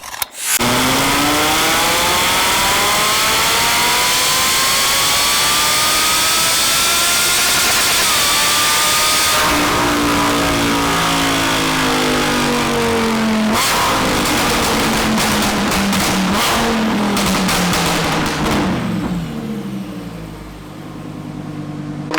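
Tuned Audi R8 engine screaming through a full dyno pull, loud and close, rising in pitch over several seconds, dropping briefly, then climbing hard again before cutting off near the end.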